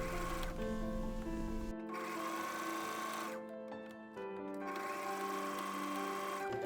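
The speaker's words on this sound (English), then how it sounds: "I'm sewing the sleeve seam with a French seam, and then I attach both sleeves also using a French seam." Up close, a sewing machine runs a French seam on a shirt sleeve, whirring in steady bursts with short pauses and a low hum between runs.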